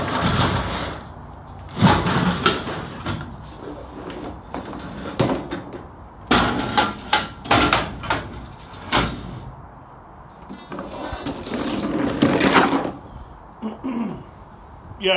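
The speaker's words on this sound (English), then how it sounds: "What I'm trying to do right now is get the truck loaded up for tomorrow." Scrap metal is loaded into a truck in a run of irregular clanks, bangs and scrapes, some sharp and close, separated by quieter pauses and shuffling.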